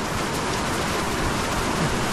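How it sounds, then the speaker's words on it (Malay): Heavy rain pours down steadily on a campsite, a dense, even hiss of falling water with no pauses and no voices. "Hujan lebat di kemah."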